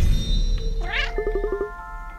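A cartoon cat meows in the Cat Quest video game, a rising meow followed by a quick run of short, clipped mews over steady game music.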